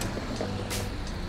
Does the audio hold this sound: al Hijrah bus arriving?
yes